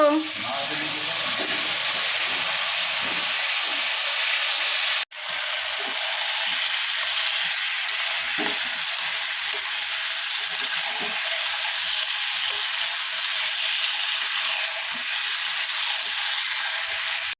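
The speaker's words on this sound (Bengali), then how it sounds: "বন্ধুরা মাংসটা অনেকক্ষণ ধরে কষাচ্ছি" Meat sizzles steadily in a hot pan while being stirred for kosha, a dense bright frying hiss with scattered scraping clicks of the spatula, loud and close, briefly cut off once and resuming without talk.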